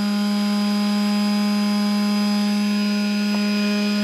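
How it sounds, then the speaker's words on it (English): A small sander powered by a portable power station runs at a steady whine, loud and constant with a strong sustained tone. "it's running this little sander"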